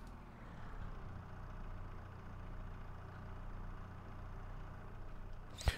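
An old tractor engine idling in a farming video game, a low steady rumbling chug that runs evenly throughout, fairly quiet, ending with a sharp click.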